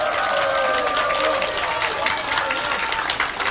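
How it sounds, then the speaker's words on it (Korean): An audience at a political gathering claps loudly and steadily, a thick wash of applause with a voice heard speaking or calling over it the whole time. "여러분 박수 크게 한번 더 보내주세요."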